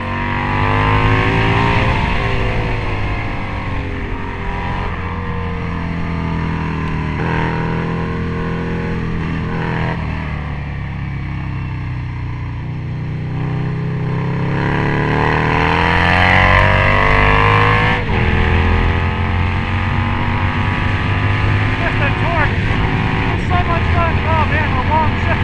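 A Harley-Davidson Screamin' Eagle factory Road Glide bagger roars loudly while being ridden, its engine note rising and falling through several revs and gear changes, with a rider's voice and laughter mixed in over the exhaust.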